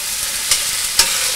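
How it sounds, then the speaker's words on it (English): Golden beets and vegetables sauté in a pot for borscht with a steady, soft sizzle and hiss. A couple of brief clatters from stirring break through, and no one speaks. "Little sizzle. We're not really looking to brown it, just to get everything started."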